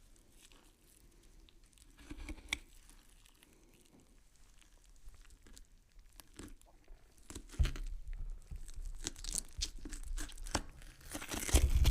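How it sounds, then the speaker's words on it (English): A blade saws through sticky tape on a wooden cabinet, giving quiet tearing and crinkling sounds that grow louder and more frequent toward the end, with no talking. "So we're just going to cut that sticky tape."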